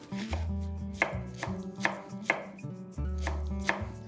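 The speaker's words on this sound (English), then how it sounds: "Let's cut this also nice and fine." A knife chops vegetables such as cabbage and beans finely on a board, in a quick, steady run of sharp, close taps, with no one talking.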